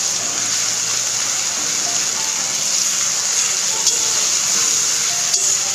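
Chopped tomatoes sizzle steadily in a pan over a low flame while being stirred, a constant frying hiss with small clinks, while palak aloo fried rice is being cooked.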